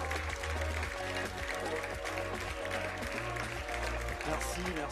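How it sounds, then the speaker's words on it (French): An audience at a web conference in France applauds as a speaker on no-code is welcomed onto the stage, broad clapping running throughout, overlaid with loud music that has a steady thumping beat. "j'aimerais que vous fassiez un tonnerre d'applaudissements pour Alexis Kovalenko qui va me rejoindre sur scène"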